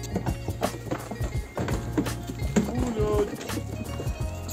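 A goat herd with young kids runs off, hooves clattering in a busy, irregular patter on the ground nearby, with some faint background noise mixed in.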